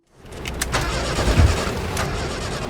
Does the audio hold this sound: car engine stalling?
yes